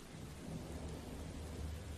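Steady rain with a low, continuous thunder rumble from a Sleepy Hollow hidden-object adventure game, a soft even hiss over deep rolling bass, faint and without any voices.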